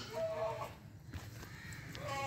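Goats on a goat farm bleat in short wavering calls, one near the start and another near the end, heard at moderate distance amid low background noise.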